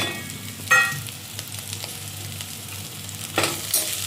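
Small onions, curry leaves and coriander fry in a pan, giving a soft continuous sizzle with a few sharp spoon-scrape stirs near the start and end, close and without voices.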